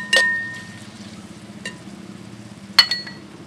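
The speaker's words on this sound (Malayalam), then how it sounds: "അതിലേക്ക് നമ്മൾ നേരത്തെ എടുത്ത് വെച്ച തക്കാളി ചെറുതായിട്ട് അരിഞ്ഞിട്ട് ഇട്ട് കൊടുക്കുക എന്നിട്ട് ഒന്ന് നന്നായിട്ട്" Onions and chopped tomatoes fry in a pan while being stirred, a low steady sizzle broken by three sharp metallic scrapes and clinks of a spoon against the pan, close by.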